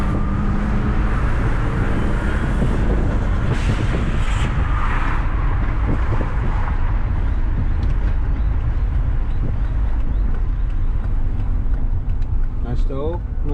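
A twin-turbo Subaru pulls along in second gear, its engine a loud continuous roar with wind rush inside the cabin as people talk over it.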